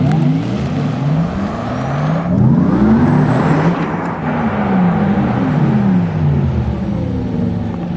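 A Porsche Taycan RWD electric car plays its artificial drive sound, a loud, close, sci-fi whirring hum that swoops up and down in pitch as it speeds up and eases off, steady throughout with no talking.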